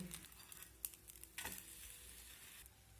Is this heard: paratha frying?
yes